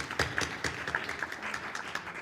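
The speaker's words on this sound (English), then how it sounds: "I wish you to join me in a round of applause for all of them." A town meeting audience bursts into applause, a dense, steady patter of many hands clapping close by, with no talk over it.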